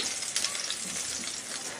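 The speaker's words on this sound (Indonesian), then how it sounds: "Kalau sudah, kita akan gongsong bawang putihnya sampai nanti wangi." Crushed garlic fries in a hot pan with a dense, steady sizzle that stays loud and even throughout, with no talking.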